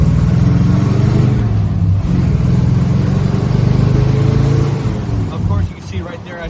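A 1965 Oldsmobile Cutlass 442 pulls hard through its gears, a loud, close, steady engine roar from inside the car that eases off near the end, with someone talking over it.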